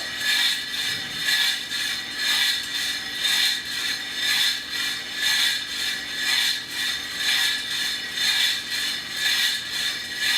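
The motor of a cheap eBay coffee roaster runs steadily, giving a faint whirring rattle that pulses in a regular rhythm about once a second, with no voices.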